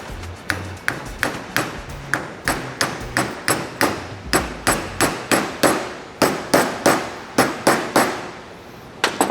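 A suspension cap on a 2024 Toyota Tacoma SR5 lift kit being tapped into place with a hammer, a steady series of over twenty light metallic pings in a regular rhythm, close and clear without talk.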